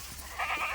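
Goats being herded out toward a farmstead give a short nearby bleat that swells in the second half over a faint outdoor background.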